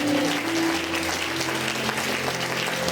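A church congregation claps steadily in praise, with dense, continuous applause filling the room at moderate loudness and a faint sustained tone beneath it at the start.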